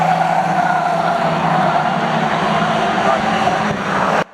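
Loud, continuous engine roar of race cars battling closely at Cowdenbeath Racewall, a sustained buzzing drone that cuts off abruptly at the end.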